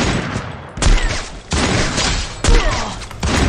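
Gunfire in the mobile battle-royale game Garena Free Fire: loud, close bursts of rapid shots strike in a repeating rhythm, about four volleys roughly a second apart, with almost no voice over them.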